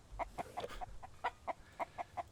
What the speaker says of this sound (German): Oh, das Huhn macht mich wahnsinnig.